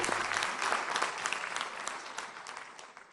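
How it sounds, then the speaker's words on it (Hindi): Audience applause for three judges at a stage competition, a full steady patter of many hands that gradually softens toward the end, heard alone without talk. "जोरदार तालियां हमारे तीनों जजेस के लिए।"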